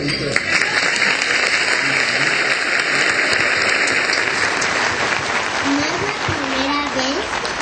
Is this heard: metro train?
no